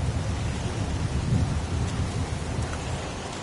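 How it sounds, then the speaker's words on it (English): Pouring rain with rolling thunder in the video game Heavy Rain, a steady dense hiss of rainfall over a low continuous rumble, loud and unbroken, with no voices. "It's pouring rain"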